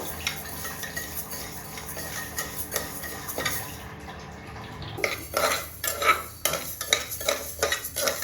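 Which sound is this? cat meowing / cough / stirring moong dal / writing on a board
stirring moong dal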